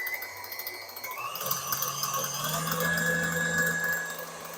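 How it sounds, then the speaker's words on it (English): An electric hand mixer fitted with a whisk whips mashed potatoes with real butter and whole milk or cream, a steady whirring motor hum that rises in pitch after the first second and runs continuously, close and fairly loud. "Makes the best potatoes is this mixer, not the beater, but the whisk"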